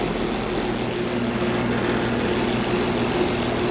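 A new 2024 York LX Series 5-ton central air conditioner runs just after startup, giving a steady, even hum with a low droning tone. It holds at a constant level the whole time with no speech.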